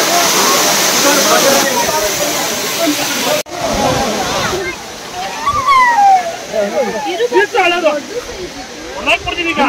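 Jhari waterfall in Chikmagalur roars as a loud, steady rush of falling water, with brief splashing and overlapping voices in the second half.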